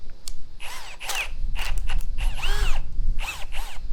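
A TECCPO 18V hammer drill spins a larger bit in loud, close bursts, its motor whine rising and falling over several short pulses against a constant low rumble.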